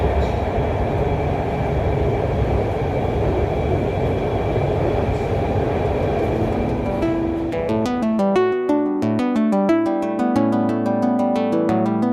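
A Lahore Orange Line metro train runs with a loud, continuous low rumble and roar heard from inside, then turns into a tonal electric motor whine that rises in steps.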